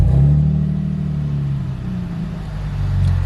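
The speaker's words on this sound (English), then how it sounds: "So that was me literally tapping the gas for a second," A Chevrolet Camaro engine gives a short tap-of-the-gas rev, a loud, steady low rumble that rises briefly and then holds its revs instead of dropping back, heard up close with no talking.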